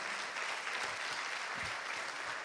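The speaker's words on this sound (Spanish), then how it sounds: "¿Cuánto le dan un aplauso al Señor?" A church congregation claps together in praise, a continuous, fairly soft wash of applause throughout with no voices heard over it.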